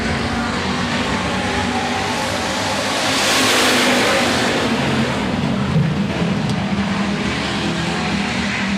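Hobby stock race cars at a speedway starting a heat race, their engines roaring together in a loud, continuous drone that swells midway as the pack passes close.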